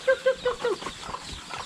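Backyard chickens kept by a woman in rural Vietnam, a few short close clucks in quick succession followed by softer scratching and background noise, no talk over it.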